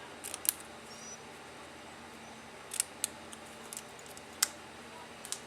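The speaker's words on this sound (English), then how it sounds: "I'm just going to snip up into the middle, and then I'm going to snip from each corner" Scissors snipping paper for a small DIY box, a few crisp, isolated cuts spaced irregularly and close by, with quiet pauses in between and no talking.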